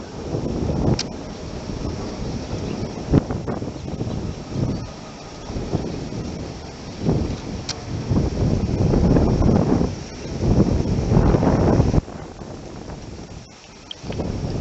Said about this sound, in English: What's funny is the wind's hitting me in my back.